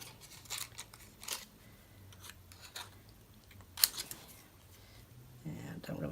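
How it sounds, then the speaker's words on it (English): Hand scissors snip through stamped paper in a few separate cuts, close and fairly quiet, with a low background hum and no words spoken. "I'm just going to cut these by hand, and hopefully I can cut it straight enough"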